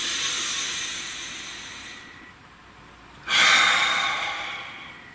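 A deep breath, close to the microphone: a long airy exhale that fades, a brief pause, then a sharp, louder intake of air that slowly tapers off.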